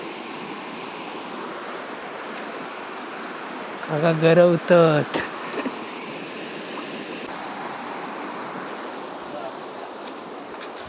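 Muddy river water in the Konkan region rushes past in a steady, broad wash, with someone speaking briefly over it partway through.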